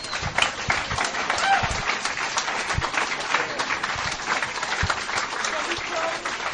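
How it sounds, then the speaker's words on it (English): Applause fills a conference hall in New York as the audience claps for themselves, a steady fairly distant patter of many hands with no pauses. "I want you to give yourselves one big round of applause"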